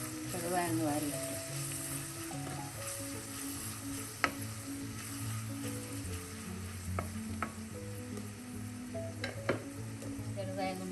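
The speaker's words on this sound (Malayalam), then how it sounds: "കുറച്ച് വെളുത്തുള്ളി ചതച്ചത്, 5 പച്ചമുളക് നമുക്ക് വഴറ്റി കൊടുക്കാം." Crushed garlic and green chillies sizzle steadily in a hot pan for a coconut fish head curry, with occasional stirring clinks beneath a voice.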